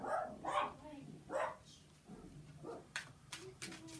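A pet dog barks several times, sharp yelps rising in the latter half amid a woman's speech, fairly close and moderately loud.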